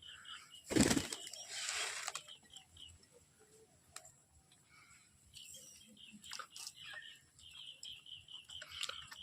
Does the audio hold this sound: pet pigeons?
yes